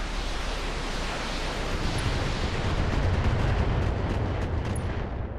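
Standard LRM turret in the BattleTech video game unloading a missile barrage, a dense continuous roar of launches and impacts with rumbling low end, steady and loud throughout with no voices.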